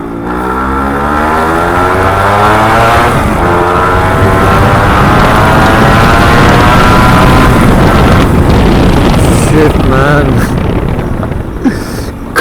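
Suzuki Shogun two-stroke motorcycle revving hard, its pitch swinging up and down through gear changes while overtaking, loud and close under heavy wind buffeting.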